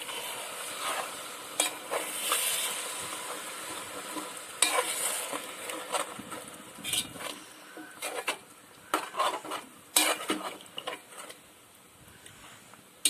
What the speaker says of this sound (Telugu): ఒకసారి బాగా కలుపుకొని